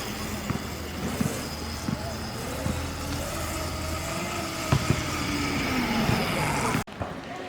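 A 1000W 48V electric dirt bike on a lithium battery riding fast in third speed, with a rising motor whine and road rumble. Occasional knocks are heard before it cuts off abruptly near the end, with speech tagged throughout.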